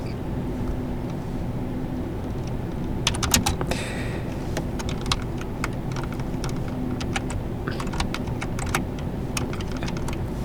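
Computer keys clack in irregular bursts while someone types a command into a Linux terminal, with clusters of quick taps over a low steady hum and no voices.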